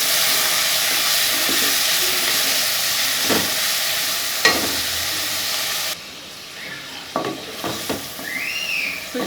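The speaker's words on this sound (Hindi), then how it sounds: "हमारा मटन जो है वो अच्छे तरीके से अदरक, लहसुन और हरी मिर्च के साथ ये फ्राई हो गया है" Mutton with ginger, garlic and green chili frying hard in a karahi, a loud steady sizzle and hiss with occasional scraping stirs and clanks of the spatula, the sizzle dropping slightly partway through; no talking.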